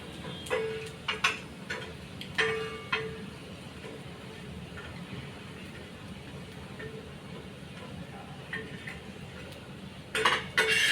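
Coriander fritters are flipped on a griddle pan, with scattered metallic scrapes and clinks of a spatula against the pan over a low steady background hiss.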